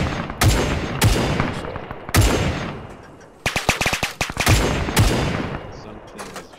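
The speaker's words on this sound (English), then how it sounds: "Is that an SMG shoot?" SMG fire in the Battle of Wake Island video game: several sharp, loud shots with ringing tails, then a rapid burst of automatic fire, and more shots after.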